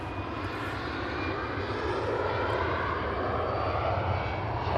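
An EasyJet airliner taking off from Manchester Airport for Copenhagen, its engines producing a steady, loud broadband roar that builds slightly and holds throughout, with no voices.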